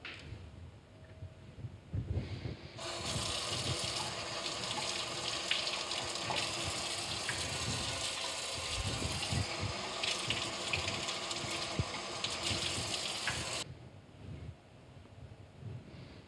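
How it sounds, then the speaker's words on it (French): Eggshells are rinsed under a strong running tap, a loud, continuous rush of water lasting about eleven seconds, preceded and followed by quieter handling noises. "nos coquilles qui sont ici, je vais les rincer à grande eau avant de les utiliser quand même"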